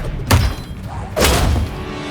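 Expelliarmus disarming spell striking in Hogwarts Legacy, two heavy thuds with a whooshing burst about a second apart, loud and close.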